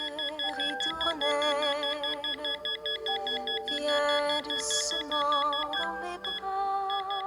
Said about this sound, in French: Une sonnerie signale à sa mère qu'il a entièrement cessé de bouger.